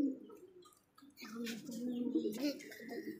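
A pair of Giribaz pigeons give soft, low, throaty coos close by in a quiet space, with faint scuffling and a voice speaking over them.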